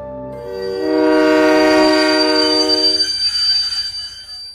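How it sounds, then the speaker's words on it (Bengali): A train pulls into a platform, its loud harmonic horn swelling in after a second and holding for about two seconds, then fading while the low rumble and clatter of wheels continues alone. "কনকনে ঠান্ডায় শেষ ট్রেন যখন প্ল্যাটফর্মে এসে দাঁড়ালো,"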